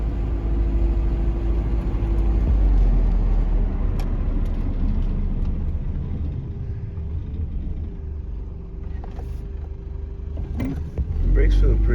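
A Nissan D21 pickup truck drives along with a steady low engine and road rumble, loud and close from inside the cab, easing slightly toward the end while someone talks over it.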